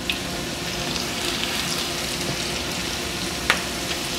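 Catfish coated in Louisiana-style breading with extra seasoning fries in hot oil, giving a steady close crackling sizzle with occasional sharper pops and no voices.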